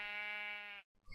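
A single sheep in Minecraft lets out one sustained, clear, nasal bleat lasting nearly a second, then cuts off into brief silence.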